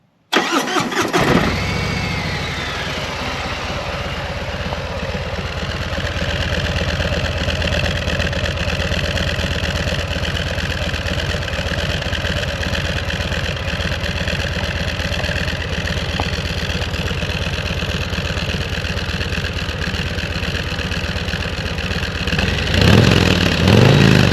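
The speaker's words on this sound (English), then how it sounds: "Let me go ahead and fire this up so you guys could hear what it sounds like with stock exhaust." A 2022 Harley-Davidson CVO Road Glide on its stock exhaust cranks and fires, then idles loud and steady with a deep, even rumble for over twenty seconds before revving up slightly at the end.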